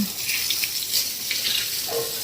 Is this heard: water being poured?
yes